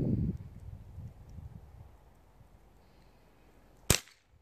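A single sharp BB gun shot aimed at cans outdoors, a brief crack near the end after quiet rustling and faint background noise.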